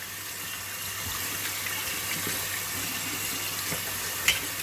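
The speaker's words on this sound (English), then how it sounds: "So now let's go and rinse our hands." Hands being rinsed under a running tap, a steady close stream of water splashing into a sink with a brief louder splash near the end.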